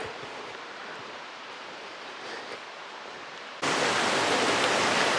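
A river beside the Skookum Flats hiking trail rushes steadily, a soft, even wash at first that jumps abruptly to a much louder, closer roar partway through, with no talking.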